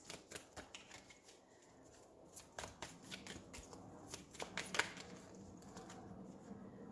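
Tarot cards are shuffled for a weekly Capricorn reading, a close, quiet run of rapid riffling patters and soft card snaps continuing steadily for several seconds without talk.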